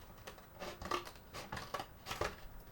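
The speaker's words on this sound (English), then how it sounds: "So we are just going to cut off the sides." Scissors cutting the sides off a cardboard box, a series of about six quiet, close crunching snips in an uneven rhythm, with no talk.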